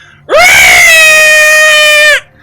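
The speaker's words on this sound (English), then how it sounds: "you hear this loud, piercing shriek" A loud, piercing alarm shriek rings out in a fantasy tabletop role-playing session, one steady, high wailing tone that starts abruptly, holds for about two seconds and cuts off, with no voices over it.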